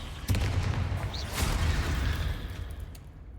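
Expelliarmus, the disarming spell in Hogwarts Legacy, cracks out as a sharp burst followed by a second punchy hit, over a steady low rumble of in-game ambience.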